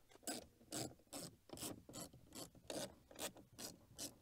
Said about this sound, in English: Then it's a matter of removing 5 T20 screws.